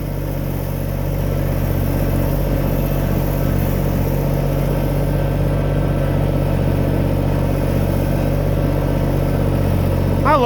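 Husqvarna tractor engine running steadily after a cold start, a loud continuous idle with even rumbling pulses and no variation in speed.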